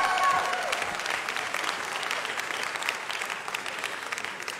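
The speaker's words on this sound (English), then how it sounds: "Now that's worth a bigger round of applause than that" A crowd applauds at a Los Angeles ceremony honoring a ska band, steady moderate clapping that carries on for several seconds at an even level.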